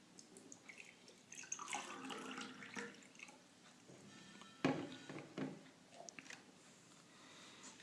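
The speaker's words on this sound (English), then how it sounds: "Put some water in the glass." Water poured into a glass resting over a coin, heard as faint trickling and splashing with a few sharper drips and clinks, quiet and close with no voices.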